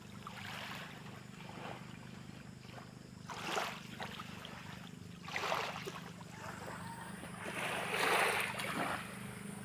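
A motor boat runs over calm sea, its steady low engine drone joined by swells of wind and splashing water breaking against the hull, with no one talking.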